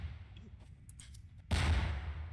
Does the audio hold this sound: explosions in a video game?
yes